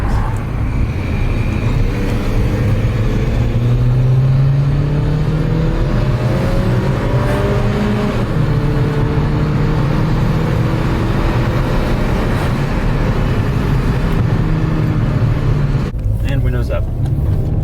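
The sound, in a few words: Mini Cooper R56 engine on a quick uphill pull, windows down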